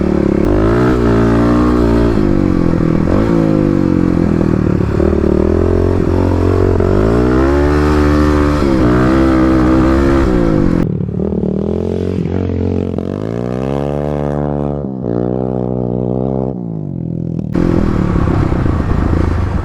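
A Kawasaki KLX 250/351 dirt bike revs and slides around close by, its engine rising and falling in loud repeated surges without a break.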